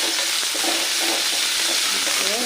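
Onions frying in a pan with a little rock salt for a gourd thokku, stirred steadily under a constant loud sizzle, with utensil scrapes repeating throughout and no voices.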